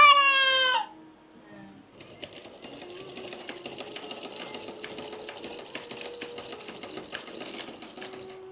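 An old sewing machine, about 30 years old and malfunctioning, runs in a steady rapid clatter with faint irregular ticks. A brief voice-like tone comes first, then a short pause before the stitching starts.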